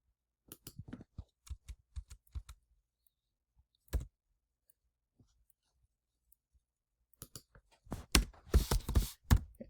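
Someone types on a computer keyboard, entering code, with scattered single key clicks and pauses, then a quick dense burst of keystrokes close by.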